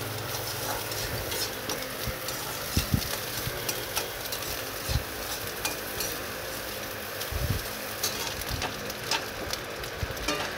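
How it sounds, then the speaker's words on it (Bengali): An egg and vegetables fry in a pan in a village kitchen, giving a dense, crackling sizzle throughout with scattered spatter pops and occasional low knocks and stirring sounds. "আর এদিকে ডিমটাও ভাজা ভাজা হচ্ছে।"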